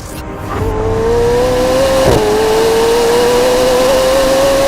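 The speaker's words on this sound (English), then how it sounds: "There's also a new lightweight exhaust, which really amplifies the sound." McLaren 750S twin-turbo V8 revving loud and close through its new lightweight exhaust, a sustained rising engine note that briefly dips and then holds steady, with no talk over it.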